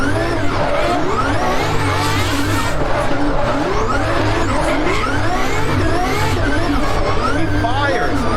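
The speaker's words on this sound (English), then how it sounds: "He fires the tires off the back of this car." A twin turbo Ferrari F12 drift car squeals its rear tires through a corner at a drift competition, with continuous loud wailing tire screech over a roaring engine, and a commentator talks throughout.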